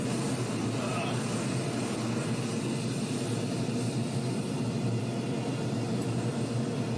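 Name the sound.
torch flame heating scrap silver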